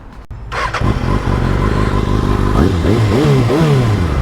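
A Kawasaki ZX6R supersport motorcycle starting up: a click, the starter cranking, then the inline engine catching into a loud close idle, followed by several sharp revs rising and falling.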